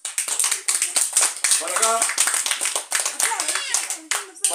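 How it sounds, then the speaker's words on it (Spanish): Guests at a child's sixth birthday party clap in quick, uneven bursts, sharp hand claps close by, while a clown-like host and others talk over them. "Aplauso para ella."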